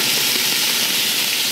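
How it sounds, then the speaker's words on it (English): Diced bacon, onion and garlic sizzle in hot oil in a pan, a loud, close, steady hiss with no break. "It's a good sizzle."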